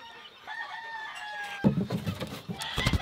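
Chickens cluck and a rooster gives a drawn-out crow, followed by a burst of louder clucking and fluttering nearby, at a poultry expo.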